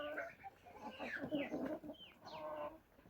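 Several chickens cluck and squawk close by in short, overlapping bursts, lively and fairly loud.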